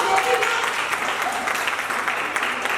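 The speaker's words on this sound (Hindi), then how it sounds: "वेरी गुड, जोरदार तालियां" Audience applause at a stage performance, a steady dense wash of clapping filling the whole stretch at moderate loudness with no talk over it.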